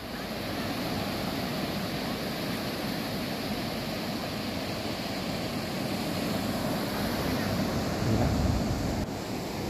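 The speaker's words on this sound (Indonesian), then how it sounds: "Sini ombaknya lumayan besar." Large ocean waves wash up on the white sand beach at Lhoknga near Banda Aceh under an overcast sky, a constant heavy roar of surf mixed with wind buffeting the microphone, with one slightly louder surge near the end.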